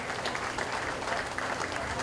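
Audience at a county fair 4-H/FFA beef show in Greenup County applauds the steer class winners, a steady dense wash of clapping throughout with no break.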